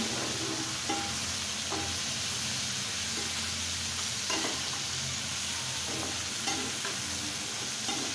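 Bitter gourd fries in plenty of oil with green chilies, a continuous loud sizzle with occasional stirring scrapes and clicks of the utensil against the pan.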